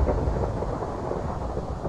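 Loud, continuous rumbling thunder from a stormy weather scene in a video game, a broad roaring wash filling the moment without speech.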